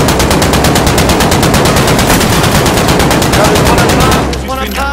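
Dense, rapid automatic gunfire from enemies in Call of Duty: Modern Warfare, loud and continuous as a steady stream of shots, easing off near the end as a voice begins to come through.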